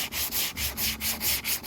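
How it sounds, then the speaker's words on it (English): Body filler on a wall-scuffed car bumper is hand-sanded outdoors in steady back-and-forth strokes, about eight even rasping passes in a regular rhythm, close and moderately loud with no talking. "The reason why you never see me sanding"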